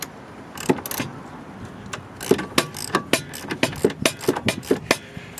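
Ratcheting socket wrench tightening a bolt while installing lowering springs on a 2005 Subaru Legacy GT, a quick series of sharp metallic clicks in bursts, close up and fairly loud, with no talking.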